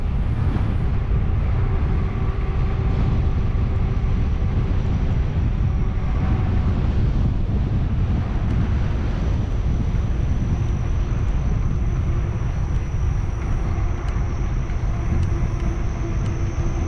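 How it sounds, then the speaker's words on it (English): Wind buffeting a camera microphone on a level bike trail, a continuous low roaring rumble that stays loud and steady throughout, with no talk. "So this section's been pretty windy."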